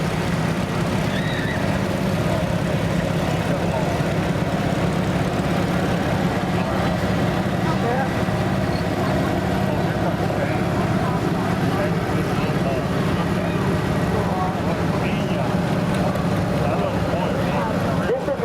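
Antique tractor with its mower deck removed rolls past in a county tractor show parade, a steady low engine drone running continuously throughout with a commentator talking over it.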